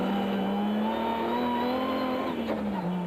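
A Toyota Land Cruiser rally car at a 2002 rally event drones loudly and steadily as it approaches, its engine pitch holding high and rising slightly near the end, with no talk.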